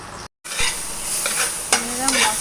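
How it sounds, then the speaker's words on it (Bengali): Foli fish sizzles in hot oil for a spicy curry, a close, continuous crackling hiss with a spatula stirring through it. A brief gap of silence near the start breaks the frying. "মাছ ভাজা হচ্ছে। এটা হলো ফলই মাছ ভাজা করছি।"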